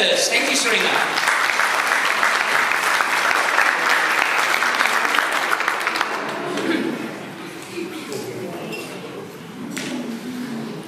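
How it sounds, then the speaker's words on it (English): An audience at a Pacific community anniversary event in Auckland bursts into sustained, loud applause that fills the room, then gradually thins out while voices carry over the top. "Please give a warm round of applause to the General Manager of Pacific and Community Capability"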